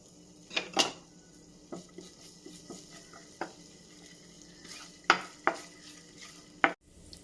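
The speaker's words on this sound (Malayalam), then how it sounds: "അതിലേക്ക് കുറച്ച് ഓയിൽ ഒഴിച്ചു കൊടുക്കണം. ഇനിയും ഇതിലേക്ക് ആദ്യം ഇഞ്ചി ഇട്ട് കൊടുക്കാം." Ginger fries in oil in a non-stick pan with a soft sizzle under scattered utensil stirs and clinks against the pan, close and fairly quiet.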